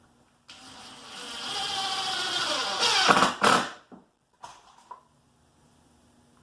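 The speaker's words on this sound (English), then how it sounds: "And we're going to screw it in place." Power drill driving screws into a wooden concrete-countertop form: a sustained whirring spin that rises in pitch, then sharp bursts as each screw seats, followed by brief clatters and short stops near the end.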